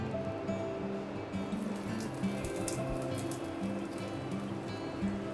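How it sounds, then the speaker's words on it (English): Onions dropped into hot melted bacon fat for Mississippi-style gumbo set off a steady, fairly loud sizzle and crackle that runs unbroken throughout, with a low background hum and no talking. "Now our bacon fat is all melted and starting to be hot, so it is time to add the onions."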